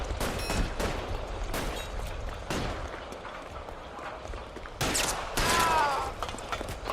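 Gunshots in an LA Noire shootout crack out in separate sharp reports, a few spaced shots followed by a louder, closer cluster near the end, over low background noise.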